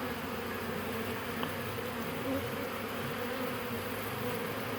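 Honeybees packed in a shipping package set up for installation give off a steady, dense buzzing drone that holds close and unbroken throughout, with no talking.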